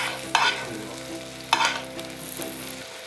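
Hot butter is spooned over a sea bream fillet in a frying pan: a steady sizzle with two or three louder spattering bursts as the butter lands, then the sizzle fades out.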